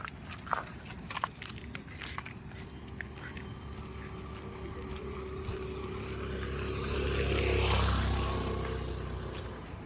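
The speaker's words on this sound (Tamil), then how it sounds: "இங்கேருந்து வந்து ஃப்ளைட்டோட இன்ஜின் ஆன் பண்ண சவுண்ட் அப்படியே தெரியுது, அப்படியே கேட்குது" An Indigo airliner's jet engine starts up and runs as the plane waits to take off: a broad, distant roar that builds slowly and swells to its loudest near the end, with a few faint scattered knocks and no talking.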